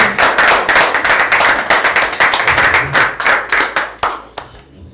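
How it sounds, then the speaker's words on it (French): An audience at a Gabonese NGO ceremony claps loudly and briskly to welcome the organisation's president, a dense patter of many hands that thins out and breaks into scattered claps toward the end. "Est-ce qu'on peut s'élever pour recevoir le président de l'ONGA 4 Gabon, M. Koga Henri, sous l'acclamation."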